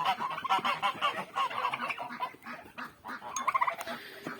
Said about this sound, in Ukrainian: Гусак ганяє гусака.